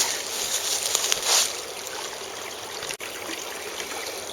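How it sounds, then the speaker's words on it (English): Shallow creek water trickling and flowing steadily in a wooded creek, a constant hiss with a brief splash near the start, heard up close without talk. "I think I'll start off with a bit of creek walking."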